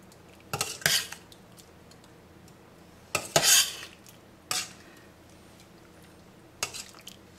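Metal spoon clinking and scraping against a pot while butternut squash soup ingredients are mixed, in four short separate bursts with quiet gaps between.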